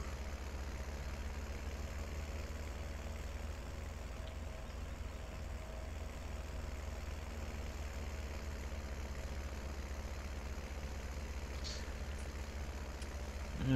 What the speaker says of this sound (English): It's bogging the tractor down a little bit